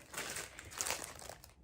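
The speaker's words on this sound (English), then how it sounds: "I will try my best to minimize the crinkling." Plastic packaging around cross-stitch project kits crinkles softly nearby in a short, continuous rustle that fades out at the end.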